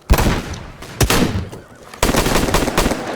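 Loud rifle gunshots crack in quick bursts in a Wild West video game, three clusters of sharp reports with echoing tails.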